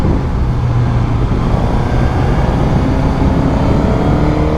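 A Suzuki GSX-S 1000 motorcycle engine pulls hard as revs climb, a loud, rough, continuous drone with a rising tone over steady wind and road rumble.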